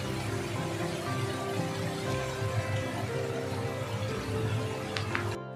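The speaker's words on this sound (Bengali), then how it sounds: "পুরো ঝমঝম করে বৃষ্টি এলো, জোর বৃষ্টি হচ্ছে" Heavy rain pouring down outside during a downpour, a dense continuous hiss and patter on surfaces, steady and fairly close, with a couple of faint brief knocks near the end and no talking.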